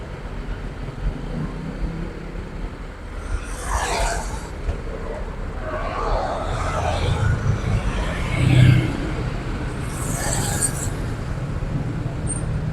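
A Laju Prima bus departs Rajekwesi terminal in Bojonegoro, its engine rumbling steadily and swelling as it pulls away, with a terminal announcer talking over it.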